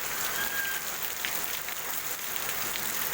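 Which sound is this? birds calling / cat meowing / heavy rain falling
heavy rain falling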